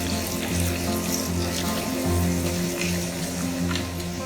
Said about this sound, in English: we'll just saute the onions until they change color.